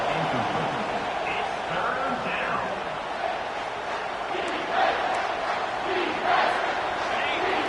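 A large crowd roars continuously, a dense wash of cheering and shouting with a few louder swells, with a commentator talking over it.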